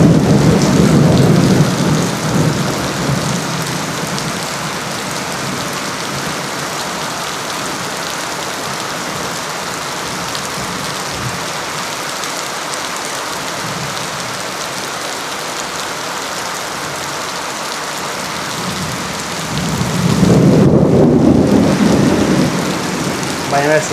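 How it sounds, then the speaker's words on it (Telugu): Heavy monsoon rain with thunder and lightning, a loud continuous downpour with deep rolling thunder swelling at the start and again near the end. "పిడుగులు పడుతుంది, మెరుగులు వస్తున్నాయి బాగా."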